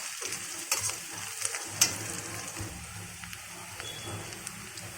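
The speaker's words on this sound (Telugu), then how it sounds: "ఇందులో పసుపు, ధనియాలు, జీలకర్ర, ఎండుమిరపకాయ ఆడించుకున్న పొడిని వేసి బాగా వేయించుకోవాలి" Onions frying in a pan with turmeric, coriander, cumin and ground red chilli powder for a banana masala curry, a steady close sizzle broken by a few sharp stirring scrapes, with no talking.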